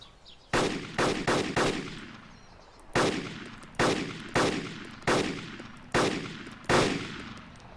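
Gunshots ring out during a firefight in the survival game DayZ: a quick cluster of shots, then evenly spaced single sharp reports with echoing tails, loud and clear with no talking.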